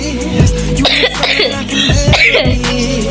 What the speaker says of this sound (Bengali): আমি অনেক কাশি এখন, কারণ কালকে রাতে বৃষ্টিতে ভিজেছি